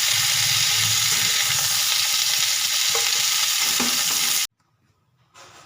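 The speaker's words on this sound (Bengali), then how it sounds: "লাল লাল করে ভেজে নেব ফুলকপিগুলো ভাজা হয়ে গেছে" Cauliflower florets fry in hot oil with a little turmeric, giving a loud, steady, close sizzle that cuts off abruptly near the end.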